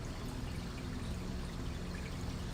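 Water pours steadily into a reef aquarium sump in a continuous, even rush that lasts throughout, close up, with no voices.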